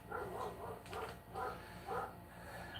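Dogs bark repeatedly at a distance, in a rhythmic series of muffled woofs, fairly faint against a low background hum.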